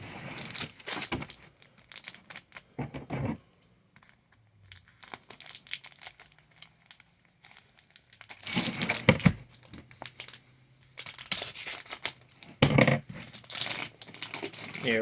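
A plastic comic book bag is opened with close crinkling and tearing in several bursts separated by quiet gaps, the rustling growing busier and louder toward the end.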